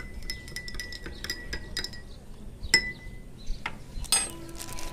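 A metal spoon stirring salt into water in a glass, giving a quick series of bright clinks and taps against the glass, close and fairly quiet, with a few louder strikes.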